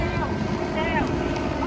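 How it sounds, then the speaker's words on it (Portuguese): A helicopter passes low overhead, its steady rumbling rotor and engine drone filling the whole stretch, mixed with gusts of wind buffeting the microphone. "tá passando helicóptero bem aqui baixinho"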